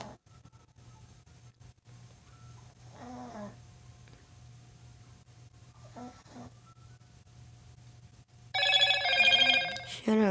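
A telephone rings loudly near the end, a bright sustained burst cutting in over a quiet room where someone speaks briefly and a low hum runs throughout.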